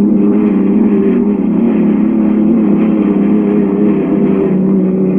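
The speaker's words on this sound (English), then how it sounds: "Listen to the sounds of these engines." Unlimited hydroplane race boats at the 1973 World Championship in Seattle roar continuously, one steady, loud, droning engine sound with no break for the whole stretch.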